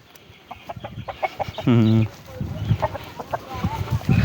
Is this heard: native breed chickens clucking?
yes